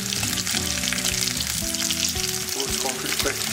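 Food sizzles and crackles steadily in hot oil in a home kitchen, a dense, continuous frying hiss with tonal background sounds running underneath throughout.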